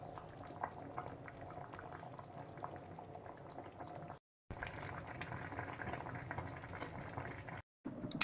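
Braised beef simmers in a covered pot, a soft, steady bubbling and gurgling that runs throughout with two brief silent gaps. It sounds close but faint, with no voices.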